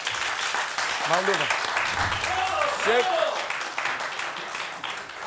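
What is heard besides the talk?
studio audience applause on a TV game show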